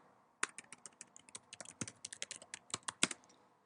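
A password is typed on a computer keyboard as a quick, irregular run of sharp, close key clicks lasting a few seconds, with no one speaking.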